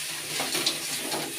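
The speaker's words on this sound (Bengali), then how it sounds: "দেখুন দেখুন ধীরে ধীরে নাড়ছি" Pickle being slowly stirred in a frying pan, a soft continuous sizzle with faint scraping and stirring scratches, steady and close with no talk.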